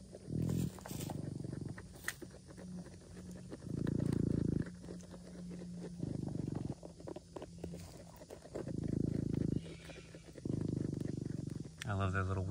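A Patagonian mara makes odd low purring grunts in repeated bursts, each lasting a second or two with short pauses between, close by and fairly soft.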